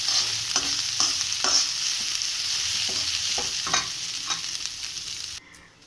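Potato, cabbage and carrot are stirred in a sizzling pan, a spoon scraping and knocking at irregular intervals over a constant frying hiss that cuts off abruptly near the end.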